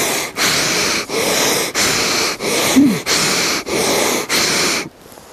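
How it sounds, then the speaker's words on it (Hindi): Long, deep breaths in through the nose as a breathing technique for mountain climbing: about seven loud, close, evenly spaced breaths in a steady rhythm, then quiet. "मुंह बंद करो सारे और नाक से लंबी गहरी सांस लो"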